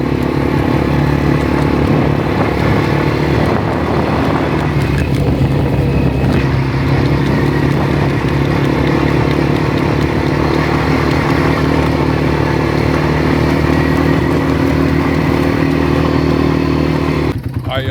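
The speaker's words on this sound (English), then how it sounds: "So right now we're riding quads here out in the desert." Quad bikes ridden out in the desert, their engines giving a loud, close, continuous drone that holds steady almost the whole way through with no break.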